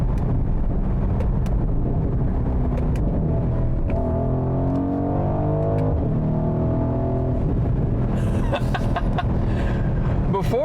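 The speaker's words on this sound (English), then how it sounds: "I'm gonna downshift a little bit." A 2020 Mercedes-AMG GLC 63 AWD SUV downshifts and accelerates, its engine note rising and shifting in pitch as a loud, continuous drone heard from inside the cabin, with brief voice near the end.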